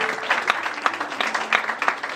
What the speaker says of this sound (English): Can we put our hands together for our mother?